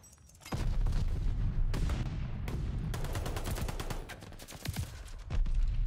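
Grenade blasts and dense gunfire from Call of Duty Vanguard multiplayer, with loud booming bursts at irregular moments over constant crackling shots, close and full.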